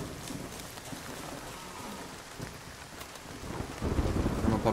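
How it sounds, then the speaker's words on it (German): Hail pelts down in the survival video game Nightingale, a steady dense hiss of falling ice with low rumbles, swelling louder toward the end. "weil es hagelt nämlich schon wieder wie Sau"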